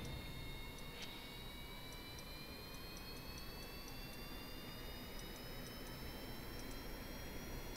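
A plane engine in Kerbal Space Program runs at full throttle: a steady, loud jet roar with a thin whine that climbs slowly in pitch, holding throughout without a break.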